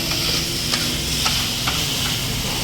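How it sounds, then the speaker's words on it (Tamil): Kothu parotta is chopped and stirred with curry on a hot griddle, giving a steady loud sizzle with a few sharp metallic clacks of the spatula spaced through the short stretch. "குழம்பு ஊற்றி படப்படப்படப்படன்னு அடித்தோம்னா அதே கொத்து பரோட்டா"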